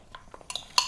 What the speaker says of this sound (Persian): خب این خامه رو به قول شیرازی گرامی به این بستنی اضافه میکنیم